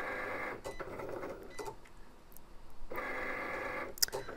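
A Cricut Explore cutting machine slices Heat and Bond fabric heat transfer vinyl, giving bursts of steady mechanical whirring and buzzing broken by short pauses and faint clicks, fairly quiet and close by.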